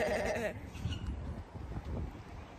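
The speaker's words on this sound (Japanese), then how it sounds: "それは羊かな。" A sheep gives one short wavering bleat at the start, fairly close, then fades into quiet outdoor background in an Australian park.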